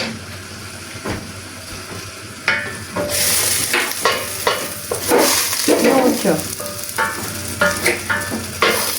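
Steady sizzling of meat browning in a pan, with stirring clatter and scraping over the hiss, loud and close.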